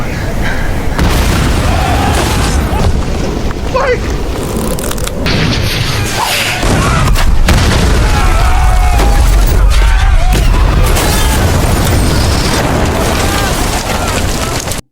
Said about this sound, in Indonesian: keadaan justru berbalik akibat ledakan yang tak terduga